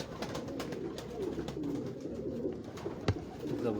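Alfan pigeons with purple feet coo steadily in a low, continuous murmur on a Lahore rooftop, layered calls overlapping throughout with one sharp knock near the end.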